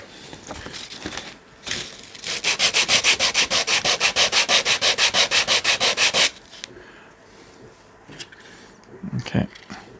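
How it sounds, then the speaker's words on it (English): The bottom edge of an MDF terrain piece is sanded by hand with rapid, even back-and-forth rasping strokes, loud and close, preceded and followed by quieter handling noises. "That needs a little bit of a sand at the bottom."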